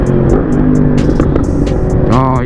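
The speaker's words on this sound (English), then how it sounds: "This bike sounds so good." A 2020 Yamaha MT-10 motorcycle being ridden gives a loud, close, steady engine drone with strong low harmonics, broken by a brief throttle shift near the end and buffeted by wind.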